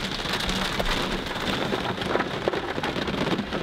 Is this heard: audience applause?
no